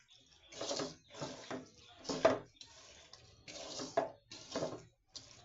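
Small mola fish and shrimp being mixed by hand in a bowl, producing wet squelching and sloshing pulses in an uneven rhythm, close and moderately quiet, with no talking.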